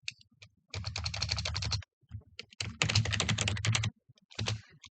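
Fast typing on a computer keyboard while renaming a view in Revit: a few short taps, then two dense runs of key clicks, close and crisp, separated by short pauses.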